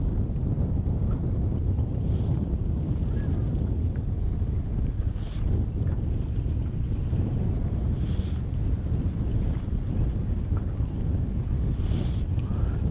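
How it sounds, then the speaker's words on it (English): Wind gusts buffet the microphone outdoors near a river with heavy current and rolling rocks, a constant loud low rumble with brief swells, alone without talk. "There's a little bit of wind up here."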